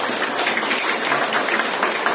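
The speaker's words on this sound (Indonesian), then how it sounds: "Jadi kita sekali lagi tepuk tangan dong." An audience at a Catholic marriage mentor training session claps in a dense, steady burst of applause, fairly close and even throughout.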